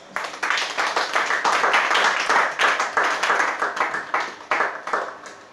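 A church congregation at a worship service claps in unison to acclaim Jesus, a loud, steady rhythmic beat of many hands close by, with no talking over it.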